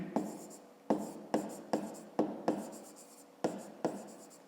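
A pen writes out the explanation for a fifth-grade math exercise with close, crisp scratching strokes, a regular run of short bursts, each starting sharply and fading, with no talk.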